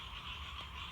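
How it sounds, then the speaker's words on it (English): Frogs croak from ponds on a neighbouring property beside a xeric garden, a faint, steady chorus of overlapping calls filling the background throughout. "the frogs are croaking in the ponds in the property next door"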